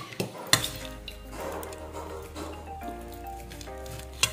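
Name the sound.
serving fried potatoes with a spoon from a pan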